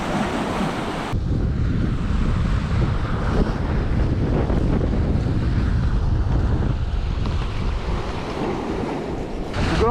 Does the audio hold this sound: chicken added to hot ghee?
no